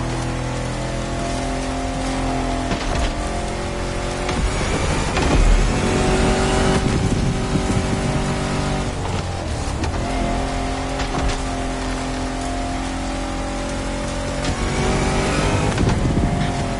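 A Jeep Rubicon on 33-inch tyres drives off-road in The Crew Motorfest, its engine droning loud and continuous with rising and falling revs and tyre noise throughout, no talking.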